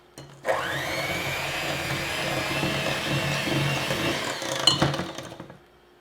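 Banana bread batter with two eggs and vanilla extract beaten by an electric mixer, a steady close whirring motor running about four seconds before cutting off abruptly.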